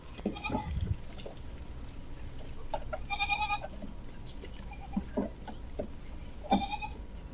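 A large herd of goats bleats in scattered calls, several separate cries over a few seconds, some near and some farther off, over faint outdoor background noise.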